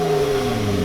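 A Lotus Evora sports car engine revs in a steady, loud, sustained mid-pitched drone, heard briefly and alone without talk.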